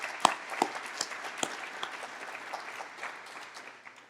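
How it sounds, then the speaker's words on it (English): Sparse, scattered applause from a small audience at a Gainesville State of the City address, a few distinct claps standing out over a soft steady patter for a few seconds. "I would love to be able to send him some applause too."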